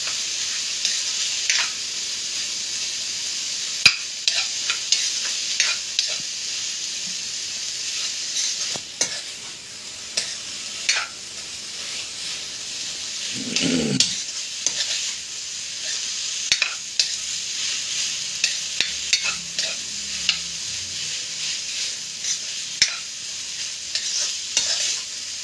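Food fries in a pan, a long steady sizzle broken by repeated stirring clicks and scrapes of a spatula against the pan.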